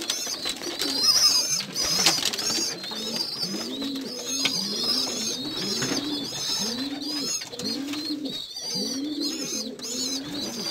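Pigeons in a breeding loft housing a Belgian cock bird coo steadily and close by, rounded rhythmic calls repeating over a bed of faint chirps and soft rustling.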